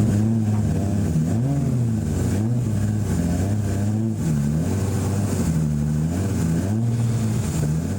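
A turbocharged Toyota Mark II drift car, fitted with a Truss T88H 38GK turbo making around 1,000 horsepower, revs hard through a long burnout, with the loud engine note rising and falling steadily throughout.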